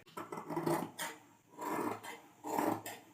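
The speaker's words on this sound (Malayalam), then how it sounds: "ഇനിയിപ്പം ഈ ഭാഗങ്ങൾ നമുക്ക് കട്ട് ചെയ്ത് കളയാം" Scissors cut through fabric for a davani in three rasping, crunchy strokes, each about half a second long and separated by brief pauses, close and fairly quiet, with no voices.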